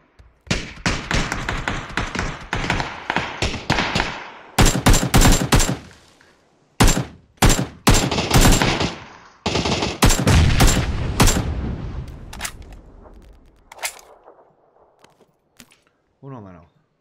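Bursts of automatic gunfire in the battle-royale game PUBG, loud rapid volleys broken by short pauses and single shots, with a squad member's voice talking over them.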